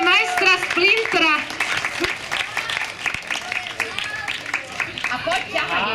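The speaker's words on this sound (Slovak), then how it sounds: "Potlesk pre majstra Splintera." A group, many of them children, claps and cheers for someone dressed as Master Splinter at a lively costume event, with excited young voices and chatter mixed through the scattered applause.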